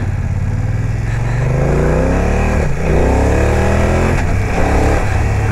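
BMW F900R motorcycle engine revving hard up close, loud throaty roar that rises and falls in pitch through several repeated blips of the throttle.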